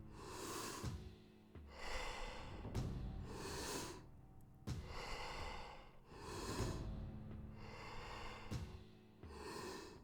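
Deep, forceful breaths during a Wim Hof breathing exercise come in a steady rhythm of about eight inhale-exhale cycles, close and airy, with no talking.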